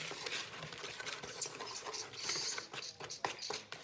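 Mango crisp ingredients whisked in a bowl for a vegan garam masala dessert, giving a continuous quick scraping and tapping patter at close range, with no voices.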